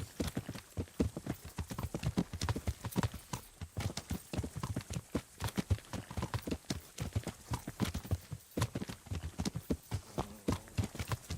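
Horse hooves clip-clop in a brisk, even rhythm while riding through the countryside in Kingdom Come: Deliverance, close and continuous with no voices over them.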